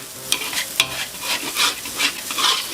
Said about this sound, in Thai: คลุกเคล้าทุกอย่างให้เข้ากันนะอย่าให้มันกระจุกเป็นตัวเดียว